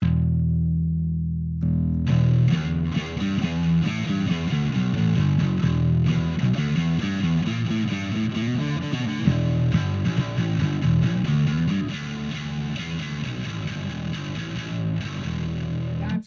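Bass guitar played through a Teisco distortion pedal, a thick, fuzzy, sustained riff with gritty overtones that starts after a short quiet intro and runs continuously and loudly without talk.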